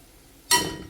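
A lid, likely glass, is set onto a pan of simmering ivy gourd (kovakkai) gravy with a single clear clink, then a short ringing decay over a quiet background.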